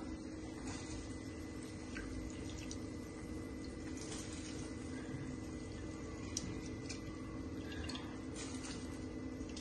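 A pot of water for basmati rice bubbles at a rolling boil, a faint, steady seething hiss with small pops and drips and no voices.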